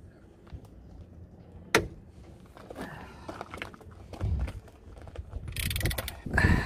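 Bolts being loosened on the wishbone of a VW T4 van, a few sharp metallic cracks and ratcheting clicks at close range with clanks and scraping of tools on the suspension.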